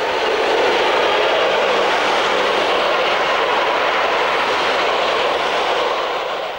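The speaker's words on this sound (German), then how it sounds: "Nördlich von Steinbach am Wald eine Begegnung mit einer Lok der Baureihe" A DB class 144 electric locomotive and its train pass north of Steinbach am Wald as a loud, steady rolling roar that holds for several seconds and fades slightly at the end, with no voices.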